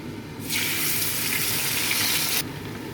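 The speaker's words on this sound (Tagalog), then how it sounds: "Magluluto na tayo sa pan. So, pwede na natin lutuin sa low heat." Pork chops hit a pan over low heat and set off a sudden steady sizzle that holds for about two seconds, then drops away to a quieter background hiss.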